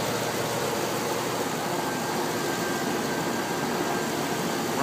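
A 2011 Chevrolet Silverado 2500HD with a 6.0-liter engine idles with an even, steady rumble and hiss, close by and unchanging for the whole stretch, no voices.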